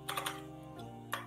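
Quiet typing on a computer keyboard that is playing up: a quick burst of three key clicks, a pause, then one more tap, close and alone.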